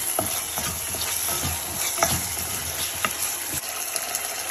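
Jackfruit pieces and lotha frying together in a pan, with steady close sizzling broken by repeated scrapes and knocks of a stirring utensil, no voices.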